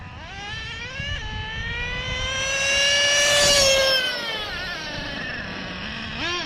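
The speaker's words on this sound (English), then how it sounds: "OS engine, you can't kill it." A Traxxas Revo Survivor Edition nitro RC truck with an OS engine revs high and whining, pitch climbing to a loud peak then dropping, with quick blips and gear-change jumps, close by.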